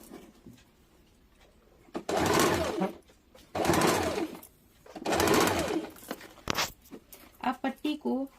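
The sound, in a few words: sewing machine running a stitch on baby frock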